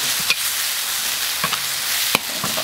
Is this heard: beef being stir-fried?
yes